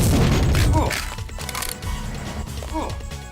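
Deus Ex gunfire, including a shotgun, opens with a heavy close blast, then a few scattered lighter shots and clanks, mixed with game voices.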